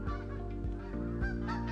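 Geese honk continuously in a dense, loud chorus around decoys during a waterfowl hunt, many birds calling at once close by.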